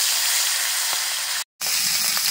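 Small fish fry in hot oil in a wok, giving a steady, close hiss of sizzling with a brief dropout partway through.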